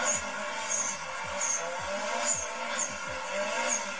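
A Nissan S14 drifting on a street, its engine roaring steadily while repeated short tire squeals chirp and skid at regular intervals, loud and close throughout with no talking.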